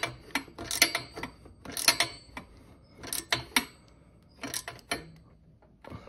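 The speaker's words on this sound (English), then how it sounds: "now I can just basically tighten it down" A socket wrench ratchets while tightening a radiator guard bolt on a Honda CRF300 Rally motorcycle, giving quiet, close, uneven bursts of clicking strokes with brief pauses between them.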